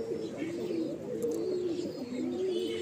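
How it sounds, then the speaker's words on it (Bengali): A Mundi Sada pigeon coos close by, giving continuous low rolling calls that rise and fall in repeated phrases. The cooing is heard alone against light room noise. "একটা পায়রা দেখাচ্ছি"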